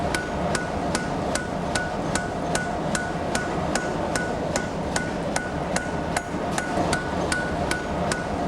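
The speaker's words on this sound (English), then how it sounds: "Each iron rod is heated to a glowing red, then under decisive hammer blows, is gradually forged into the fasteners" Sharp metallic hammer blows ring out at an even, rapid rhythm as a red-hot iron rod is forged into ship fasteners in a wooden shipyard, about twenty close clanging strikes over a steady background.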